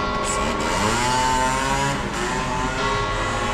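A motorbike engine drones loudly and steadily throughout, its pitch rising and falling slightly as it passes close by.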